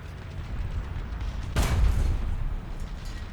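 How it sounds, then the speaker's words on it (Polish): A single heavy tank cannon shot in War Thunder on the Volokolamsk map booms out mid-clip, loud and close, over a steady low rumble of engine and battlefield noise. "Za szybko oddany ten strzał, bez przygotowania, bez namierzenia"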